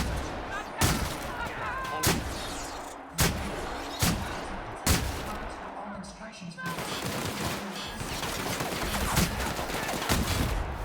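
Shotgun blasts in The Outer Worlds video game, a series of loud, sharp booming shots at irregular intervals with one burst per second or so, amid ongoing combat noise and some voices.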